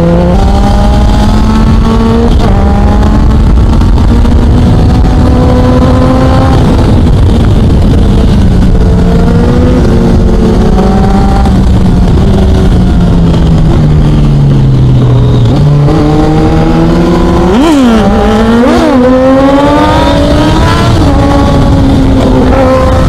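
A Triumph Daytona 675R motorcycle engine revs hard through gear shifts on a group ride, loud and close, pitch climbing then dropping at each change with a sharp blip near the end, no speech.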